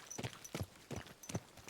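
Hooves of a horse walking in a video game, four evenly spaced clip-clop steps heard faint and close, with no talk.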